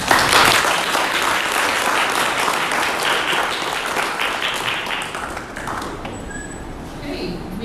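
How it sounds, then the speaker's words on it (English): Audience applause at a memorandum of agreement signing ceremony, loud dense clapping that gradually thins and fades toward the end, with a few faint tones after. "can we have a round of applause?"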